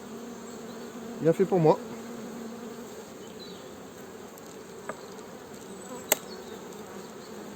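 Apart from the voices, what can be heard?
honeybees buzzing while inspecting a mini-plus hive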